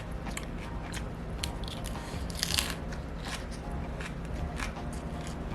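Someone eating a salmon salad, with close, steady chewing and crisp crunching bites that continue throughout.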